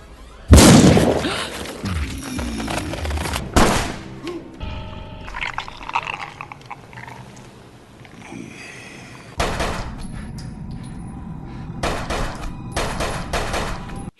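Gunfire from a film, the Wishmaster 4 scene where a lawyer fires at a djinn, comes as loud sharp blasts with booming echoes, mixed with screen sounds and several further bursts later on.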